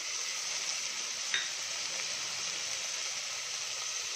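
Eggplant fries in a pan with a soft, even sizzle that stays steady and fairly quiet, marked by one small utensil clink, and nobody speaks.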